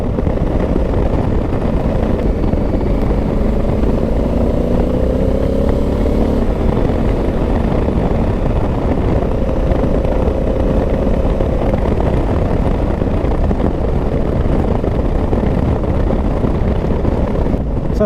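A Honda Africa Twin 2023 motorcycle rides along with a steady engine drone heavily mixed with wind rush buffeting the microphone, constant and loud throughout.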